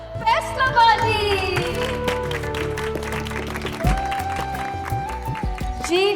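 Applause greets a performer coming on stage, loud and steady clapping mixed with a musical sting and a host's voice over it.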